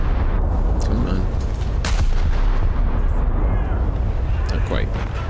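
Ship cannons boom over a loud, constant roar of engine and wind in a naval battle video game, with heavy blasts rolling in under a talking player.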